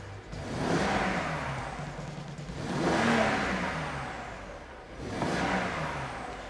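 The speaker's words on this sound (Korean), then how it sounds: "마지막으로 엔진 소리 들어보실게요." A BMW 740Li M Sport's 3000cc engine revs three times in slow swells, each rising and falling, loud and close with no voices.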